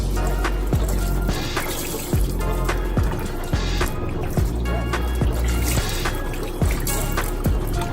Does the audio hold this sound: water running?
yes